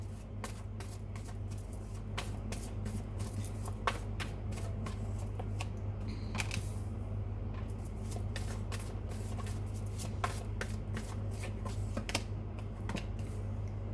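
Tarot cards riffle and shuffle steadily and close up in a quiet room, a rapid stream of crisp papery snaps and flutters over a low steady hum.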